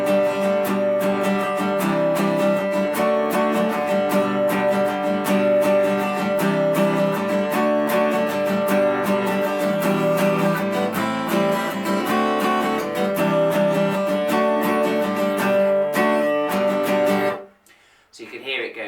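Acoustic guitar strummed in a bouncy Irish jig rhythm, steady, full and close for about seventeen seconds before stopping abruptly into near silence.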